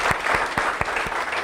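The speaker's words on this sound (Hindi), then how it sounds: "संदीप के लिए ताली बजा दो एक बारी भाई," A classroom audience applauds a student, with a handful of distinct, loud claps landing in an uneven rhythm over a steady hum of background noise and no voices.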